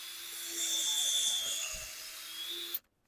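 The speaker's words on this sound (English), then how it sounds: "and just drill in" A steady whirring drill drives a screw into the center of a wooden fence post, grinding into wood with a high mechanical whine, then stops abruptly.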